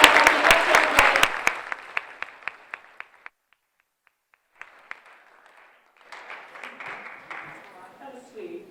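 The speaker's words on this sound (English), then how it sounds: "You guys give a big round of applause." Audience applause at an event introduction bursts loud and dense, then thins to a handful of scattered claps and a brief lull before quieter clapping and crowd noise pick up again.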